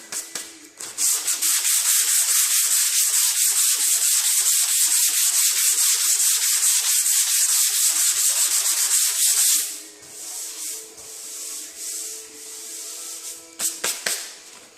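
Filler on a 2010 Honda Civic sedan fender being sanded by hand, a steady loud rasping scrub running for about nine seconds, then softer, lighter strokes with a few sharper scrapes near the end.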